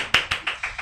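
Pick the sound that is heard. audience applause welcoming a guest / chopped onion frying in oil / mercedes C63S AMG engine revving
audience applause welcoming a guest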